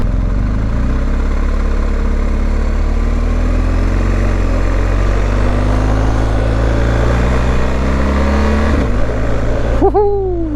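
A BMW R 1250 GS motorcycle pulls away loudly, its engine note rising steadily before a brief dip as it shifts from first to second gear, then climbing again close by.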